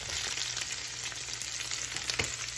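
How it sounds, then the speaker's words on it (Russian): Meat and onion frying together in a pan for goulash, a steady close sizzle with faint crackling, continuous and loud with no talking. "Сейчас обжарится вместе с луком мясо."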